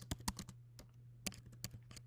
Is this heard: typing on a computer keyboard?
yes